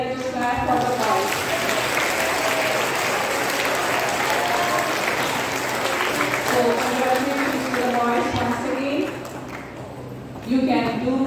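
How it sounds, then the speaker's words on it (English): An audience at a school Independence Day event claps for a group of boys, a broad, sustained applause that continues with voices and cheering mixed in before briefly dipping and swelling again near the end. "So once again, let us clap for the boys."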